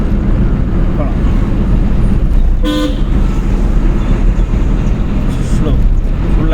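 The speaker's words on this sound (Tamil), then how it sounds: "ஹார்ன் அடி" A car horn gives one short, loud honk during a beginner driving lesson, heard inside the vehicle over a constant heavy engine and road rumble.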